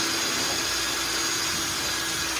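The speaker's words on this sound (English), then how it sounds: "you are just going to drill down on top of it, okay? Straight down." A power drill boring straight down into a plastic kayak hull, a steady continuous whine with a loud, even motor tone and no pauses.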